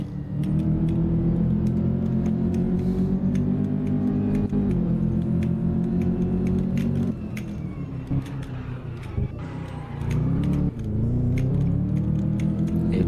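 Mazda RX7 sports car lapping a track, its engine droning and revving steadily up and down, loud and close, with brief throttle lifts and shifts and no talk.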